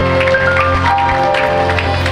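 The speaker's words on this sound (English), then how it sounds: "Clap for Jesus." A church congregation claps loudly and steadily for Jesus, the dense applause mixed with sustained music throughout.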